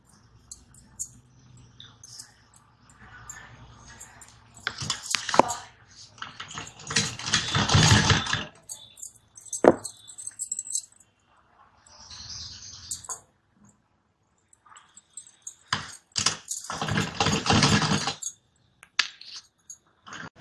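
A sewing machine stitching piping onto a blouse runs in several loud whirring bursts of a second or two each, separated by quiet pauses and a few faint handling clicks.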